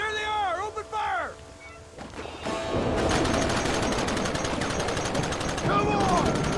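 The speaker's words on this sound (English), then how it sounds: "There they are! Open fire!" Rapid gunfire erupts in Red Dead Redemption, a dense, loud barrage of shots that continues after shouted voices at the start.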